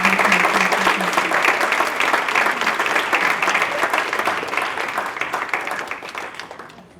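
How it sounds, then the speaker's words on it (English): An audience at a talk gives a sustained round of applause, dense and loud clapping from many hands that slowly fades toward the end. "let's just give it one more round of applause"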